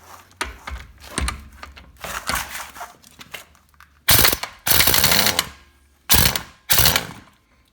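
An Earthquake XT EQ1 stubby air impact wrench, rated around 700 foot-pounds, removing lug nuts on a smaller air supply: loud rattling bursts of hammering, several short blasts separated by pauses, close and harsh.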